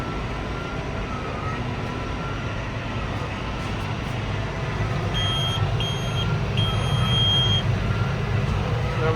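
A truck reverses on a busy farm to drop off a trailer, a continuous heavy engine rumble joined midway by several loud, evenly spaced reversing beeps, close by.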